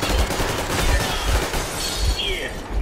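Machine guns blaze in the video game Metro Exodus, with loud, continuous rapid-fire bursts and low booms forming a dense, unbroken barrage throughout.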